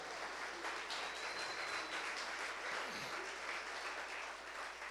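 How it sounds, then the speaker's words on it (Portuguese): An audience applauds a father during an evening church gathering, a dense, steady wash of clapping that holds at an even level for the whole stretch, with no voices rising above it. "Vai dar um aplauso, esse pai é maravilhoso."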